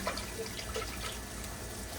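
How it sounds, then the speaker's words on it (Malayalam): Water poured into a pot of fish curry makes a faint, soft splashing and trickling sound, steady and close. "ഇനി ഒന്നുകൂടി വെള്ളം ഒഴിച്ച് ഇളക്കി അതിലേക്ക് ഇടുകയാണേ"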